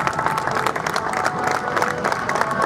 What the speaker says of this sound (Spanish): aplauso para un grande, una gran persona